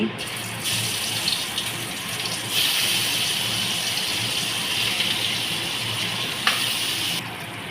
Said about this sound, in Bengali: মেখে রাখা মাছগুলো এক এক করে দিয়ে দিচ্ছি